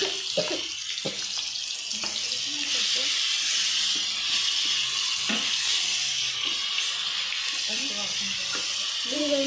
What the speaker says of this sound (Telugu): పచ్చి వాసన పోయే వాటి వరకు కాగాలన్నమాట. తిప్పుతూనే ఉంటున్నాం